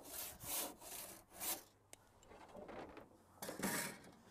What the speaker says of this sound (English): Oh man, that crosscut saw works nice.